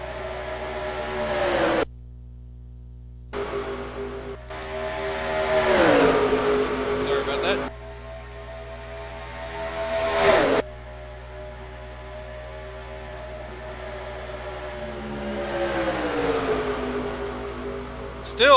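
Race cars in NASCAR Racing 2003 roaring around the AC Delco 500 at Atlanta, a steady loud engine drone with surges and passing swells, under a commentator calling the race throughout.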